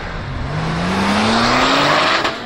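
RUF RGT 4.2, a GT3-based Porsche 991 911, revving up with a loud, rising engine howl that climbs steadily in pitch, close by and with no talk.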